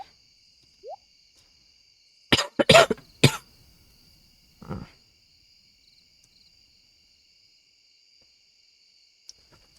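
A streamer with a sore, overused voice coughs in a short cluster of three sharp coughs, then one more a moment later, close and loud against a quiet background with a faint steady high hum.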